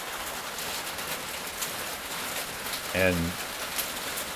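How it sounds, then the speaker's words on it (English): Rain drums steadily on a metal roof, a dense, even hiss of drops that carries on throughout, with one brief spoken word near the end. "It's a metal roof with rain hitting the metal roof."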